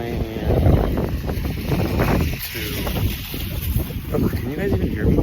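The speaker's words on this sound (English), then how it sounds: "On the bright side, it's very fucking windy" Strong outdoor wind buffets a microphone in continuous loud, rumbling gusts, with someone talking over the roar throughout.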